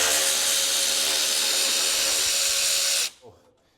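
A 10mm socket removes radiator mounting bolts on a 1995 Ford F150, giving a loud, steady mechanical whir for about three seconds before it stops abruptly, leaving a faint clunk.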